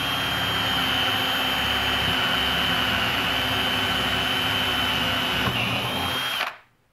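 An electric drill running in second gear and boring through wood, a loud steady whine close by that holds level for several seconds before cutting off abruptly near the end.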